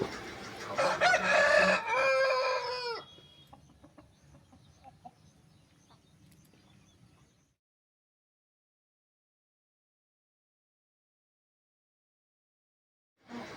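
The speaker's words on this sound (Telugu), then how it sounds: "ఇది పెట్టమారా అండి డేగ పెట్టమారు" A Bhimavaram kaki dega pettamaru fighting rooster, standing 23 inches tall and weighing three and a half kilos, crows loudly and close by for about three seconds. Faint clucks and rustling follow, then near silence.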